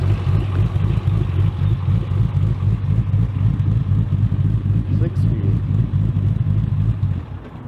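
A supercharged Dodge Challenger with an MBRP 3-inch exhaust and catalytic converters rumbles loudly and steadily at close range, a deep throaty drone with slight pulsing throughout, fading a touch at the end while voices talk over it.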